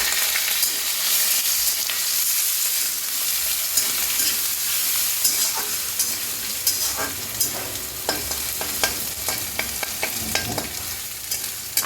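Crushed ginger and a bay leaf with the five-spice tempering for shukto sizzle in hot oil, a steady close frying hiss with scattered sharp crackles and light stirring scrapes.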